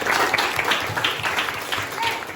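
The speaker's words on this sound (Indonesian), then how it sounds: "tepuk tangan" A classroom of children clapping hands in a patterned rhythm, dense and close, with children's voices chanting along over the claps.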